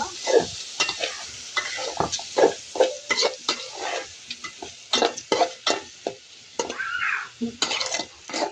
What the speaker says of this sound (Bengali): এখন আমি ডালটাকে সুন্দর করে ভেজে নিব।